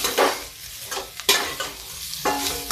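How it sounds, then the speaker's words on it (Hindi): Potatoes being roasted in a pan over a low flame for a fasting-style potato curry, with a steady soft sizzle broken by several sharp scraping stirs of a spoon against the pan, close and loud. "इसको थोड़ा स्लो आंच करके ऐसे से भूनते रहेंगे।"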